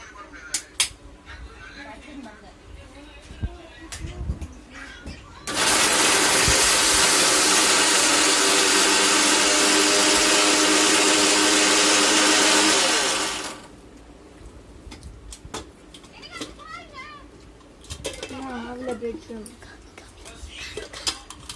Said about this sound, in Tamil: மிக்ஸி ஸ்டார்ட் பண்ணுங்க.